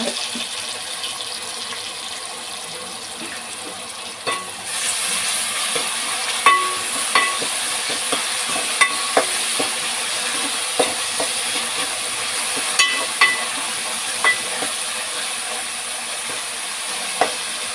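Ginger garlic paste hitting browned onions in hot oil for a mutton curry, a loud, steady hissing sizzle that jumps up partway through, with scattered sharp ticks and pops, close and continuous.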